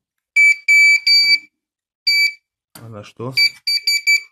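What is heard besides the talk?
SHRXY GP Pointer II pinpointer metal detector beeping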